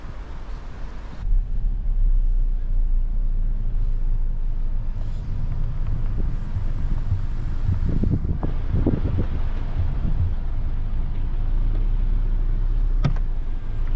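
Strong wind buffets the microphone beside Malaga Lake in the New Jersey pines, a steady low roar with gusty rumbling swells throughout and a brief sharp knock near the end.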